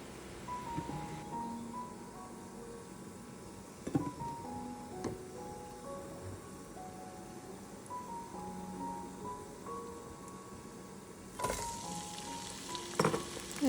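A little more oil heats in a pan after eggs are fried, giving a steady low sizzle and faint crackle close by, with a few sharp clinks of utensils and a louder clatter near the end, and no talk.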